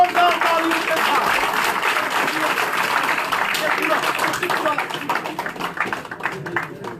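Applause rises at a party office in Jammu and Kashmir as a new member joins the BJP, sustained dense clapping that starts strong and gradually thins, with a voice talking over it.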